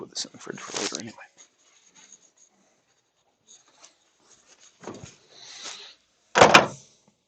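A refrigerator door opens and closes, two short muffled thumps and rustles following a brief voice at the start, in a quiet room.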